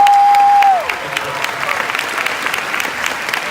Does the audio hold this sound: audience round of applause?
yes